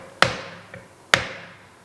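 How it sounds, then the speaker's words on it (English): A hammer striking a screwdriver to knock the crown race off a mountain bike fork, two sharp metallic blows with a lighter tap between them, close and ringing briefly. "this is the good old hammer and screwdriver method."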